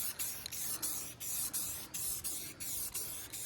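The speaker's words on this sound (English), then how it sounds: "First, we're just gonna go with a light mist coat." Spray paint hisses in short repeated bursts as a light mist coat goes onto a car, an Acura TSX, with brief pauses between each pass, close and steady.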